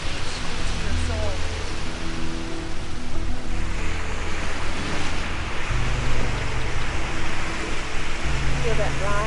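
Ocean waves wash steadily onto a beach with a broad hiss of surf, while a voice talks through part of it.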